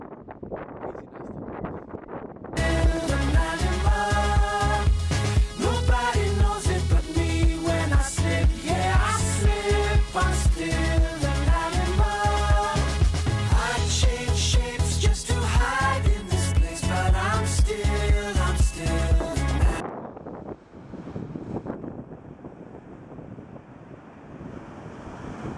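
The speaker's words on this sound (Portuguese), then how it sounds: "muito vento aqui" Strong wind roaring across a microphone on a blustery beach at Figueira da Foz, loud and continuous with surf-like rumble, partly masked by rhythmic music through the middle before gusty wind returns alone.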